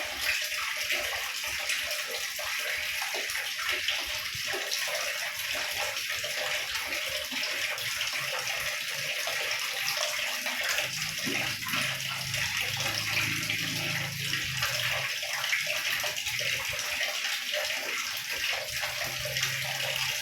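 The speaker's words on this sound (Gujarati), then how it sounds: "આ હવે પાણી ચાલુ થઈ ગયું છે, બરાબર." Tap water running into a household electric geyser during fitting, a loud continuous gushing flow that stays steady and close for the whole stretch.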